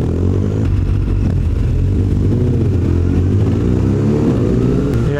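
BMW R1200GS motorcycle engine drones steadily while riding, a loud continuous close-up rumble with wind noise and no speech.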